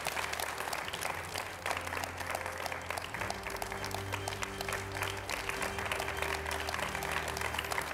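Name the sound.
studio audience applause welcoming guests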